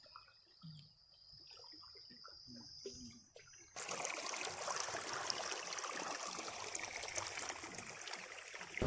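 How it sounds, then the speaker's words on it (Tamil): A quiet stretch with a faint steady tone, then well water suddenly rushes into a groundnut field's irrigation channel, flowing steadily and loudly for the remaining seconds. "இதை தண்ணியை பாய விட்டுருக்காரு"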